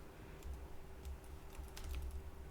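Quiet typing on a computer keyboard: a soft, irregular run of close key clicks, faint and alone with no voices.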